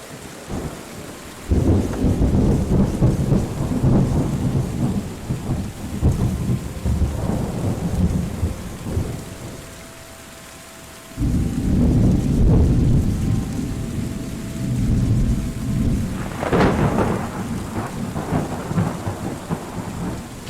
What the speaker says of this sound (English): And it is raining amazing.